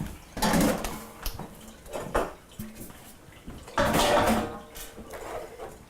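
Dishes and pot lids clatter into a kitchen sink with running water, two loud bursts of clanking crockery and metal separated by quieter rattles and splashing, close by.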